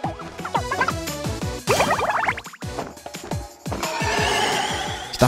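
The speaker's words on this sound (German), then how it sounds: "Sumi, aufs Pferd. Reite los" A horse whinnies in the Nintendo Switch game Miitopia, a loud neigh set among layered in-game music and effects, with no voices.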